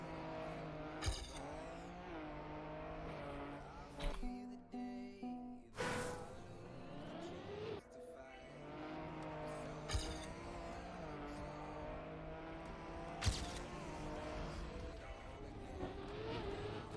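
A Trackmania stadium car races with a constant engine whine, sharp impacts and brief tire squeals as it crashes and skids through water, all fairly quiet.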